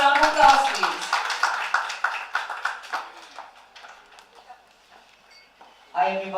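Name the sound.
audience applause for comedian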